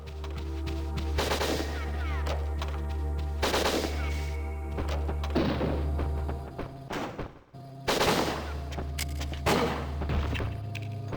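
Rapid bursts of game gunfire from the N64 shooter WinBack ring out repeatedly, loud and dense over a steady droning background, with a brief lull near the middle before more shots.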